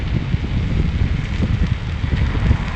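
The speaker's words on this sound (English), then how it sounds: "It's windy. I have this helmet. It's sort of like blowing in there." Strong wind buffeting a helmet microphone while riding an electric unicycle at a skate park, a constant low rumbling roar with gusty thumps and no speech.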